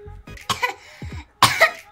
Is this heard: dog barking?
no